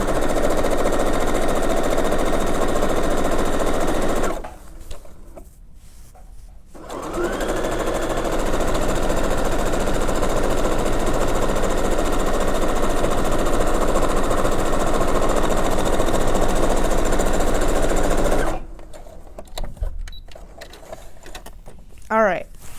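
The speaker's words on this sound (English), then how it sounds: "you are going to sew that up at 1/4 of an inch seam allowance in between those marks" A sewing machine stitching a quarter-inch seam along a fabric tube for a scrunchie: loud, steady mechanical whirring in two long runs, with a brief pause between and a stop near the end.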